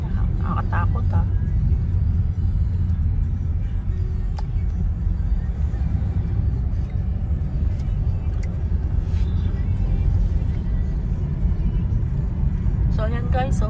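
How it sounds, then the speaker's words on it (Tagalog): Fast car rushing past on a new road toward Gen Tri, Cavite, a loud steady low rumble of engine and road noise that stays close throughout, with brief higher tire and wind hiss near the start and end. "Ang bilis ng sasakyan na yan, ha?"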